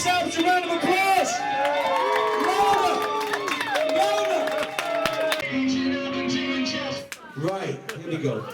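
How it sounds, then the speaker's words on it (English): Wedding reception guests in Italy cheering, whooping and shouting together over loud overlapping voices, with scattered claps in the mix and a brief drop in the noise near the end. "Yourselves a round of applause!"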